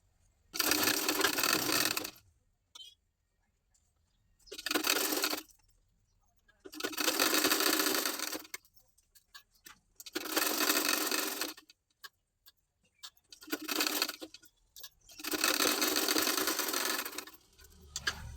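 A sewing machine runs a double stitch in six separate bursts of rapid mechanical whirring. Each burst lasts a second or two, with short quiet pauses between them, close and clear.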